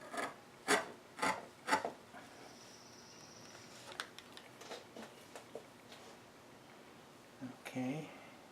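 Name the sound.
3/8 chisel squaring a dovetail socket in wood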